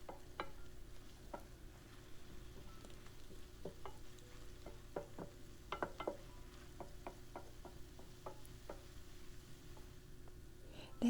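Kale cooking in a pan with sweet potato, a low sizzle broken by scattered clicks and taps of a utensil stirring, fairly quiet and close, no talking.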